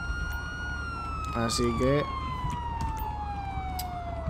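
A police siren in the video game GTA with the LSPDFR mod wails steadily with a slowly falling tone, loud and continuous, while someone speaks briefly over it.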